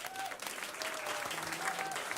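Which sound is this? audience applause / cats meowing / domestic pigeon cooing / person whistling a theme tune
audience applause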